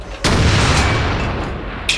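Tank cannon blast in a World of Tanks battle, one loud boom with a long rumbling tail and a second sharp crack near the end, close and forceful.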